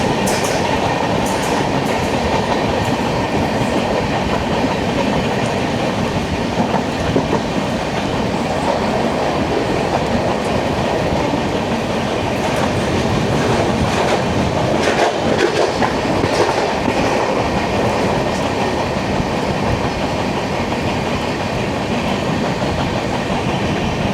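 Freight train of NMG wagons from Saharanpur passes close alongside a moving Duronto Express on the Konkan route, a steady loud roar with continuous clickety-clack of wheels throughout, no talk.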